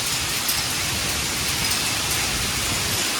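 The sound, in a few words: heavy rain falling with hail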